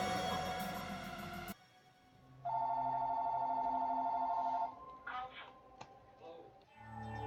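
A phone rings inside the video game Danganronpa Another Episode, a steady electronic ring tone lasting about two seconds amid other quiet game sounds and music, with short tones and clicks around it.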